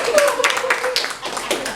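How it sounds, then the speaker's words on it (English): A round of applause at a youth training and facilitation workshop: a short burst of clapping close by, mixed with voices talking over it. "Can I give her a round of applause?"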